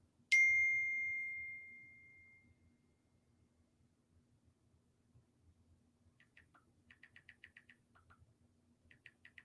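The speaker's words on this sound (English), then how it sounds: "Well, that's a text message." Phone text message notification: one bright, clear chime rings out and fades over about two seconds, followed by quiet, faint chirping ticks in an otherwise still room.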